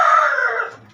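A chicken crows once, loud and close, its call indoors in a room of a house converted into a chicken coop, fading out within a second.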